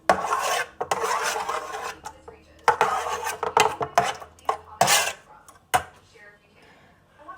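Cooked pasta being stirred and tossed with a paste for ratatouille in a bowl or pot, giving irregular scraping and rubbing bursts up close, with a few louder clatters and quieter pauses between.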